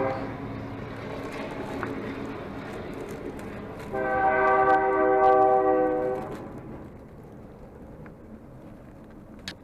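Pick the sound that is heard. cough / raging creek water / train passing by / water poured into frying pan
train passing by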